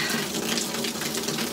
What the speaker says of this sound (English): now it's pouring rain on me